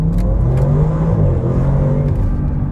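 An Audi RS6 engine in sport mode revs hard and loud, a close, sustained roar that rises and falls slightly over a few seconds with no talk.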